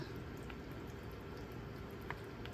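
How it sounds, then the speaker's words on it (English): A pot of turkey, sweet potato and kale soup simmering at a steady boil, a faint continuous bubbling hiss with occasional small pops and drips, quiet and close. "The soup's been boiling for about 20 or 25 minutes"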